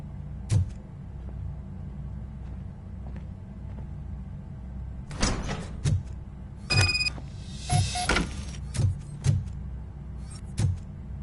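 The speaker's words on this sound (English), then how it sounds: "Now let me get that door open for you." A mechanical door opens in the RoboCop video game, with a steady low hum broken by a series of sharp clanks and whirring bursts spaced across several seconds, with no voices.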